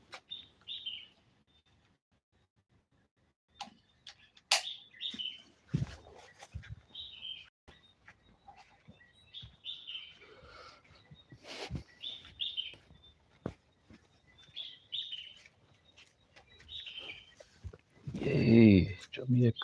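Birds chirping outdoors, short high tweets repeating at intervals, fairly near, with a person speaking intermittently between and over the calls.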